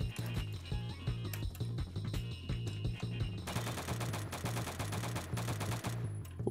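A semi-automatic DMR rifle fires in the Phantom Forces video game, with quick repeated shots in a steady rhythm over a thumping backing track.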